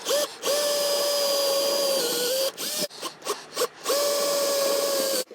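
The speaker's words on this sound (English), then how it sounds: "we'll go ahead and drill the other 2 holes" Power drill boring holes in the deck of a Westsail 28 sailboat, close and loud, with two long high whining runs split by a burst of short stop-start pulses.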